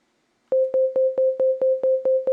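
A pure sine-wave synth tone in Ableton Live 11, retriggered by an arpeggiator into a steady, evenly spaced pulse of about ten identical short beeps at one pitch, clean and loud after a brief silence.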